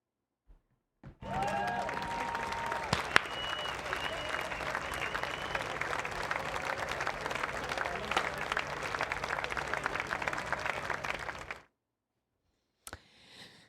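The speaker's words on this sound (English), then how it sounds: "Now clap." An audience claps on cue during a talk show, a dense burst of applause lasting about ten seconds before stopping abruptly, with a brief clatter afterward.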